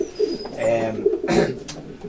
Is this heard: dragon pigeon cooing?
yes